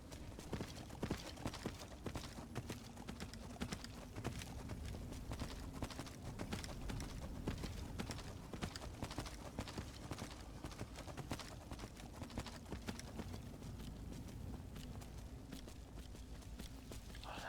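Horse hooves clip-clopping steadily in Skyrim's Soul Cairn, a continuous walking rhythm heard close amid a dense, hissy game ambience, with no talk.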